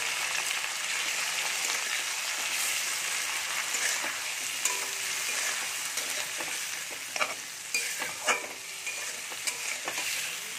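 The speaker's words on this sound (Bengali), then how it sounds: "মশলাটা দিয়ে খুব ভালো করে কষিয়ে নেব" Tomato paste with salt and turmeric fries and is stirred in a pan for a koi fish curry, giving a steady, close sizzle with scattered scraping stirs and small pops, and no talk.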